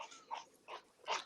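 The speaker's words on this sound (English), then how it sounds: "That's my dog right there." A dog gives a series of three short, soft whimpering and growling vocalizations, close and fairly quiet, with brief pauses between them and no talking.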